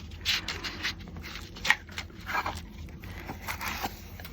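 A Kokorosa die-cutting machine runs paper box pieces through its rollers, giving a series of soft, uneven scraping and zipper-like rasps with a few sharper clicks, fairly close.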